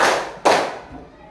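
One sharp hand clap rings out loud and close in a classroom rhythm game, following an earlier decaying clap, with a brief voice trailing after.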